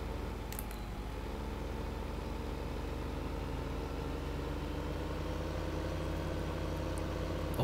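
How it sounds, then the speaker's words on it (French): Tractor engine in Farming Simulator 15 driving along a road, a steady low rumbling drone with a constant mechanical pulse, moderately loud and unbroken throughout with no voices over it. "Heureusement que j'ai ce tracteur là."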